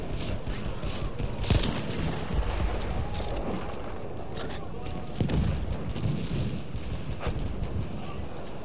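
Battlefield 1 gunfire crackles in a dense wartime battle, with scattered shots and bursts over a constant rumble of combat noise, a sharp louder crack around the middle, while someone talks throughout.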